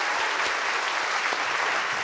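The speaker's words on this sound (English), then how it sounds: "Big round of applause." Audience applause in a lecture theatre during a televised science lecture on food and energy, a steady dense wash of many hands clapping throughout, fairly loud and close, with no talking over it.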